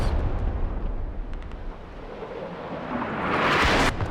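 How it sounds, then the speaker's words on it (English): Artillery fire in the Squad video game, a heavy rumbling blast that rolls on continuously and swells into a louder explosive burst near the end, with no one speaking. "Double artillery."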